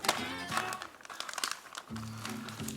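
A plastic zip bag crinkles and rustles as it is sealed shut around curing Jack Daniels smoked bacon, two bursts of handling noise close up with a pause between.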